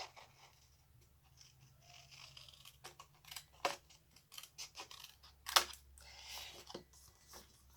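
Paper rectangles are trimmed away with scissors in a series of faint, irregular snips and crisp cuts over a quiet background hum.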